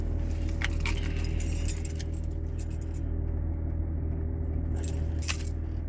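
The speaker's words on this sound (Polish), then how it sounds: "Czekajcie, ja sobie tylko biorę pilota." Range Rover Vogue car keys with a remote jingle and clink close by in two short bursts, with a quiet steady hum in the background.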